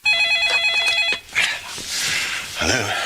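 A Sony phone rings with a loud, steady electronic tone pattern for about a second, then stops and gives way to voices talking over background noise.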